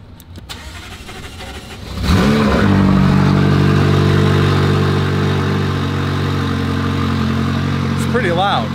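A McLaren P1 GTR fires up from cold with a loud, abrupt burst, then settles into a deep, steady idle close by. A few sharp clicks come before the start.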